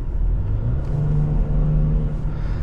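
A 2022 Nissan Rogue Platinum's 1.5L variable-compression turbo three-cylinder pulls under acceleration, a loud steady low engine rumble with a rising whir, heard from inside the cabin.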